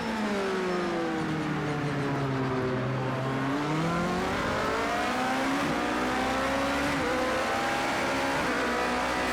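An LMP prototype race car in Project Cars 2 drives at Le Mans. Its engine drones loud and continuous, pitch climbing and dipping through gear changes, with other cars of a 32-car grid audible around it.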